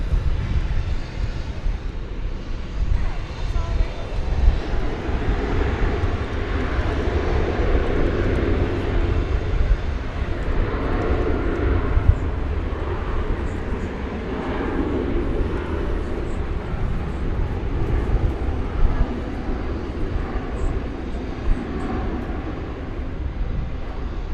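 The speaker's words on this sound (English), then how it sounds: "We see A350s coming in from Finnair and Qatar" Airbus A350 airliners from Finnair and Qatar arrive at DFW Airport at night, giving a sustained, rumbling jet roar that swells and fades slightly over about twenty seconds with no talking.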